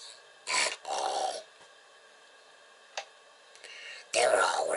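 Big dogs bark upstairs in a house, heard through the ceiling as a few short, muffled bursts near the start and again at the end, with quiet gaps between.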